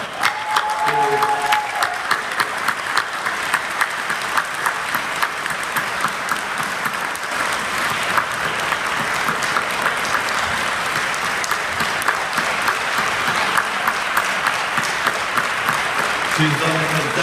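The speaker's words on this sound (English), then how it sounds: "I would like to give a special applause to Maya Abu Naga, the sub-governor." Sustained audience applause fills a closing ceremony of a global policy forum, steady clapping from a large crowd throughout, with a voice speaking briefly over it at the start and end.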